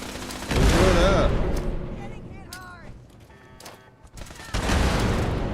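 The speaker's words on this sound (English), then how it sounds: "Grenades in a small room." Grenades go off in a small room in Fallout 76, two heavy bursts of explosive crackle and rumble separated by quieter gunfire and game effects. A player talks between the blasts.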